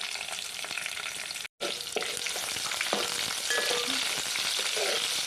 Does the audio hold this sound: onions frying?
yes